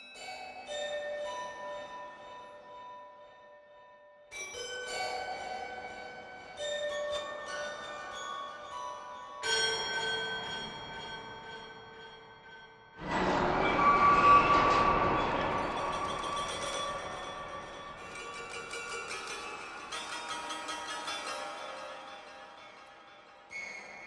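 A Triumph Audio Gorilla Toy Piano sample instrument with an Ambient Echos effect plays chiming, bell-like chords that ring and decay into washy echoes, several separate strikes followed by a louder swelling cluster, with no talking.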